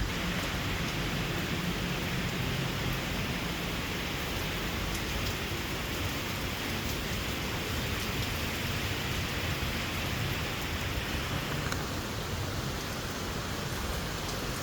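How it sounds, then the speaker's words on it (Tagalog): Heavy rain pours steadily during a typhoon, a dense unbroken roar of water with gusting wind mixed in, loud and continuous with no voices. "Lakas ng ulan pa."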